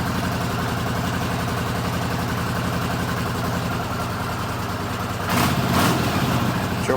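A rebuilt Honda CX500 motorcycle engine runs steadily at a loud, close idle with an even low rumble, then gives a brief louder burst of revving near the end.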